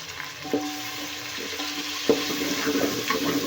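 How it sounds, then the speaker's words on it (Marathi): Ginger-garlic paste frying in oil for a village-style chicken curry, with a soft steady sizzle under scattered spoon scrapes and stirring clinks in a quiet kitchen. "ती पेस्ट घातली एक चमच आणि त्यालाही छान तेलामध्ये भाजून घेऊया"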